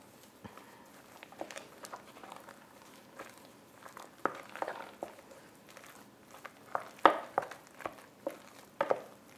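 Potato dumpling dough with nutmeg being mixed by hand gives soft, irregular squelches and pats, quiet and close, growing more pronounced in the second half.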